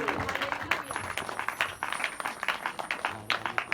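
Church congregation at a Sunday service clapping continuously in a steady, rhythmic pattern, moderately loud and close, with voices mixed in beneath the applause.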